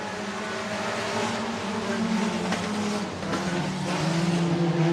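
Modified race cars roaring off at the start of a race at Buena Vista Raceway, a sustained loud blend of engines droning at a distance with slight shifts in pitch as the field gets underway.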